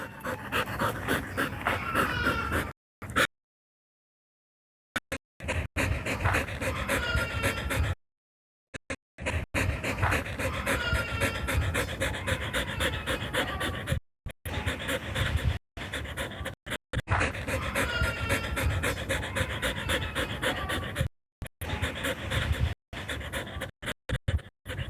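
A dog pants rapidly and rhythmically close by, in long steady bursts broken by a few short pauses, with occasional faint whimpers and no talking.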